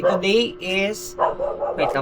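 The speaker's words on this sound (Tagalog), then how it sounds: "pasensya sa tahol ng mga aso." Several dogs bark in short bursts in the background while someone talks over them.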